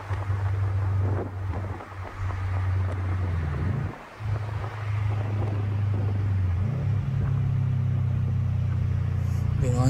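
A Subaru WRX STI with a Tomei exhaust drones at steady cruising speed, a low, constant engine hum from inside the car mixed with wind and road rumble, dipping briefly once.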